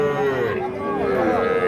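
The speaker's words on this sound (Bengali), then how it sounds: "এই যে এগুলো কিন্তু ষাঁড় বাচ্চা।" A young bull calf of about three months moos at a livestock market, a drawn-out wavering call that is close and fairly loud with faint voices underneath.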